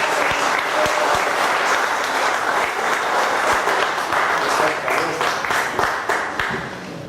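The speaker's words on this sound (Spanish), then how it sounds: "Lo recibimos con fuertes aplausos." An audience at a labor forum claps in sustained, dense applause for a guest speaker, loud and close throughout before easing off slightly at the end, with no speech over it.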